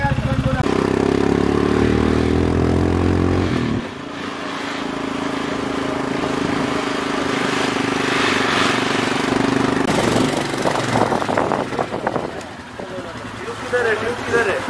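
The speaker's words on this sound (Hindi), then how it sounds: "so guys I am going to ride this bike" A KTM Duke 390 motorcycle runs with a steady engine drone that drops at one point and then climbs back with revving, ridden on a winter road in Ladakh while people talk over it throughout.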